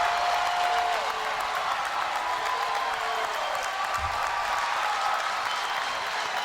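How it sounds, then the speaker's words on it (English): A fired-up college baseball crowd roars and yells steadily throughout, a dense wash of cheering and shouting at a packed stadium, with faint whistles drifting over the noise. "the crowd is clearly fired up, and the crowd's a lot of finger pointing and yelling there"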